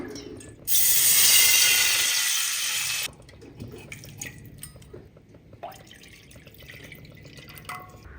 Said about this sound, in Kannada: ಇದೇ ಪ್ಯಾನ್ಗೆ ನಾನು ನೀರು ಹಾಕ್ಕೊತಿದ್ದೀನಿ